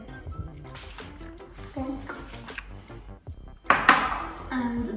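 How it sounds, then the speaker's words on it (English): An egg cracked and dropped into a bowl of creamed butter and sugar for fig roll dough, with clinks of utensil on bowl and a sharp knock midway, close by, while someone talks throughout. "We'll add the egg."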